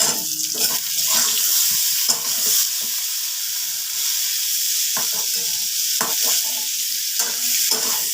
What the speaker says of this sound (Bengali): বেগুনগুলো সব ভাজা হয়ে গেছে। এবার আমি এক এক করে বেগুনগুলো সব তুলে নিচ্ছি।